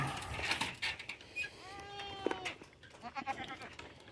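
Young buckling goats bleat in short, wavering calls on a farm, a few close cries rising above rustling and faint background noise, with a voice nearby.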